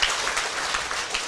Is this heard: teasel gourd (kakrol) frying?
no